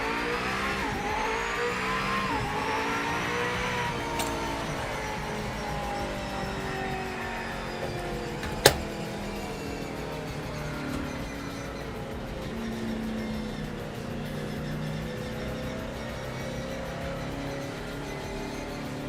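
Race car engines in Project Motor Racing rev and shift through gears, a loud, continuous whine rising and falling with one sharp click partway through and no voices.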